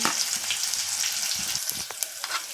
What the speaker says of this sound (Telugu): పచ్చిమిర్చి వేస్తున్నానండి.